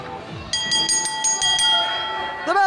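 Wrestling ring bell at a professional wrestling show, struck in a quick run of about six loud, ringing clangs with long sustained tones, over crowd noise and a fainter voice.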